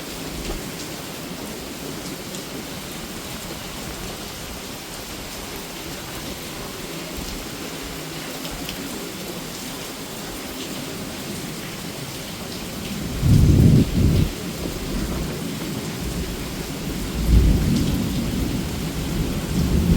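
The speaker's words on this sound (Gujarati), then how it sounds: "ગાજવીજ ને પવન સાથે વરસાદ મહેસાણામાં આવી ગયો ફાઇનલી આજે" Steady heavy rain pours in Mehsana, with bursts of low rumbling thunder rolling in near the end, around thirteen and seventeen seconds, over a constant dense hiss of falling water and wind.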